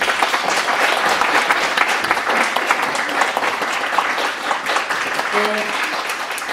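Audience applause at a traditional Korean music (gugak) concert hall, welcoming the artistic director of a women's gugak chamber ensemble onto the stage; dense, steady clapping fills the room throughout, with a host's voice faintly under it.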